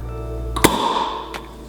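A capped bottle of homemade beer cracks open with a sharp, close pop, followed by a short fizzing hiss and a second light clink.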